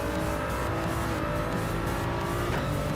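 Race car in a racing video game driven through a corner with heavy understeer, engine droning steadily and loudly throughout with a faint tire squeal near the end, no talk.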